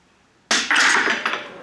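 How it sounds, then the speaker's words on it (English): The top of a water-filled bottle is tapped in a water hammer demonstration, giving a sharp, loud knock followed by a second jolting thump and a brief rattling decay, with no talk. "by tapping the top, you're causing that water to move up into the air column"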